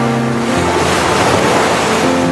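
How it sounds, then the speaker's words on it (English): Ocean waves breaking on a beach along the Bismarck Sea make a loud, steady roar of surf, with a faint low tone sounding briefly under the wash at the start and end. "Across the drum of the waves"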